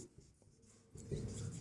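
Chalk or pen scratching out a triangle proof in a maths lesson, a few soft strokes followed by a louder, denser burst of writing.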